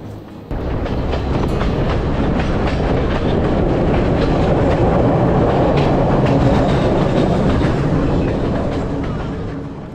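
The Badulla train running on the rails through hill country, a close, loud, continuous rumble with rhythmic wheel clatter that builds quickly and fades slightly at the end.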